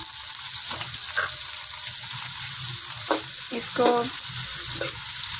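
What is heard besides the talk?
onions added to hot ghee, sizzling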